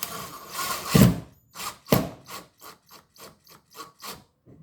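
A plug being screwed by hand into a shot clock, producing a rhythmic series of short scraping, rasping turns, about a dozen close, distinct strokes in succession with brief pauses between them.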